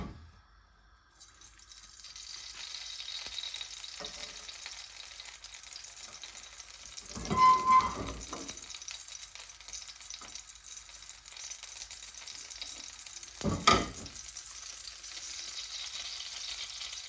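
Vegetable oil heats in a pan for a chicken Madras curry, giving a faint, steady high hiss with a couple of brief louder clatters, no talking.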